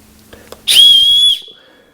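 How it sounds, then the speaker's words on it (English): A small whistle from a Harbor Freight Goedon survival kit gives a single short, shrill blast lasting under a second, close and loud, after a few faint clicks. "This looks like a whistle."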